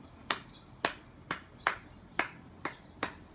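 Seven sharp, crisp claps land in an even, steady rhythm, close and isolated against a quiet background, used in Gullah church singing.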